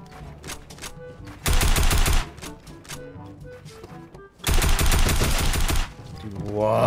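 Tactical assault rifle gunfire in a video game, heard as two long, loud automatic bursts separated by quieter game sounds and faint voices.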